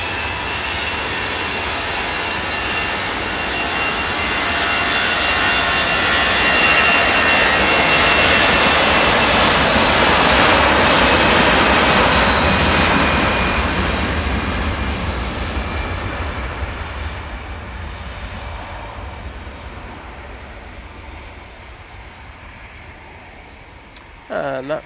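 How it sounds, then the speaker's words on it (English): An Airbus A321 jet departing Manchester Airport, its engine roar swelling to a loud peak and then fading gradually as it climbs away. "that A321 is off to Athens"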